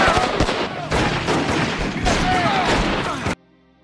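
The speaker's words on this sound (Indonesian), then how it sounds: "Tapi Opie menembaki anggota Mayan itu" Dense gunfire from a film shootout between biker gangs, with rapid overlapping shots and bursts at close range running continuously for about three seconds and then cutting off abruptly into near silence.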